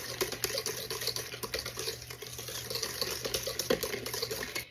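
Golden caster sugar mixed into cheesecake batter in a bowl, giving a steady, close, soft stirring and swishing with faint wet scraping and occasional light taps.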